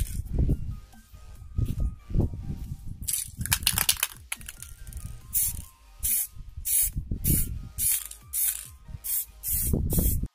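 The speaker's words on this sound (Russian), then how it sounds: "его можно покрасить вот такой краской из баллончика" An aerosol can of spray paint is used to coat a homemade wooden P90 replica, giving several short, close hissing bursts with rattling and clicking handling noises between them.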